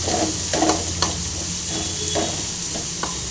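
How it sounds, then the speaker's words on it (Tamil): Onions frying in a pan for egg masala, with a steady close sizzle and several scraping stirs of a spoon at irregular intervals. "வெங்காயம் போட்டு நல்லா ஃப்ரை பண்ணி நல்லா ஃப்ரை ஆகிடும்"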